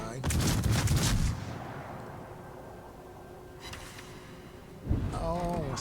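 A battleship's main guns fire a salvo in World of Warships, a loud booming blast at the start followed by a long rumbling decay and another burst near the end.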